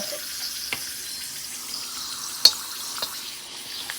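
Chips fry in hot oil in a home kitchen, a quiet, steady bubbling sizzle broken by a few sharp crackles and pops.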